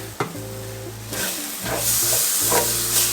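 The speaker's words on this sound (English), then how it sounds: "we are going to add in some parsley and give that a toast" Parsley is toasted in a pan for red rice, a loud hissing sizzle swelling after a soft drop and holding steady, with brief stirring scrapes.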